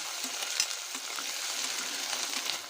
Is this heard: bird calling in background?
no